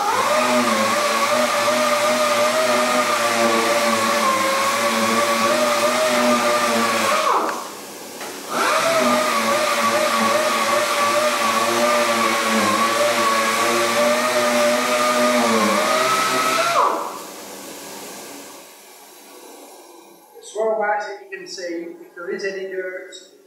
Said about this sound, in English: And then it can be sanded.